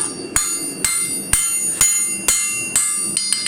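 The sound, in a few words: hammer forging steel on anvil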